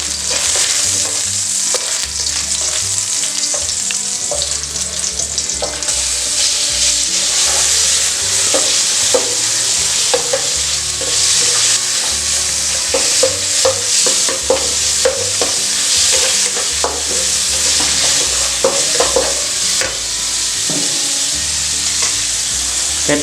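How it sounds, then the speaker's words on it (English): Chopped garlic stir-frying in a noodle sauce for stir-fried yellow noodles with beef, a loud continuous sizzle with steady stirring and scraping clatter throughout, no talking. "So we adding the chopping garlic."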